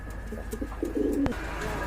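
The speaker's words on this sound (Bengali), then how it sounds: "আর এইখানে রয়েছে আরেক জোড়া কবুতর মাশাল্লাহ" A pair of pet pigeons, Maxi Homer breed, gives a brief, soft cooing burst up close, faint against a quiet room hum and lasting under a second.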